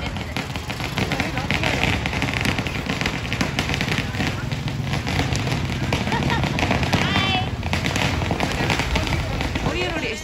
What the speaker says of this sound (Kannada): ಇಲ್ಲಿ ಪಟಾಕಿ ಹೊಡಿತಿದ್ದಾರೆ